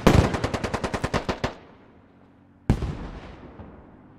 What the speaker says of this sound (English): Rockets coming in now from multiple directions.